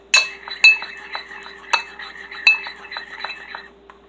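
A bowl of clear baby shampoo and a little lotion being stirred, with a utensil scraping and clinking against the bowl in a few sharp taps and softer rhythmic strokes, close and fairly quiet.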